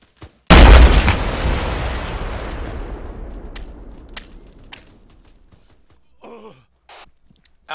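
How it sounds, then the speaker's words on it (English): A rocket explosion in the Arma 3 military shooter game hits as one sudden loud blast, then rumbles and decays over several seconds, followed by faint scattered sounds. "Just put a rocket over there. Watch out for second explosions."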